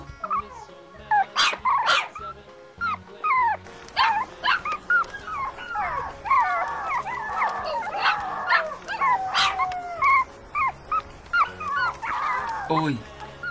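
Puppy giving high yips, short barks and whining whimpers in repeated bursts, close and loud, against soft background music.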